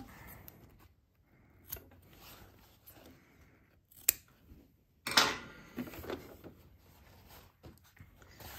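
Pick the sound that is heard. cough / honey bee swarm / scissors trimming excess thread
scissors trimming excess thread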